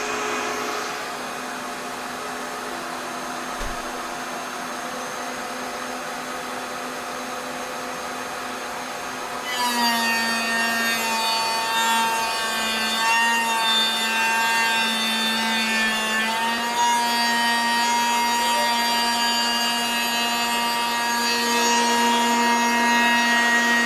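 Continuous whining of a Shepoko 5 Pro cutting into wood and throwing dark brown shavings, a steady motor drone that rises and grows louder partway through, with no talking.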